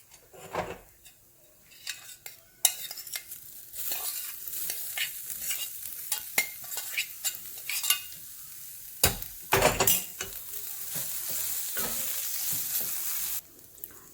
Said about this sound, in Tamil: நான் இப்போ இதில் வேக வச்ச அந்த பீட்ரூட்டை சேர்க்குறேன்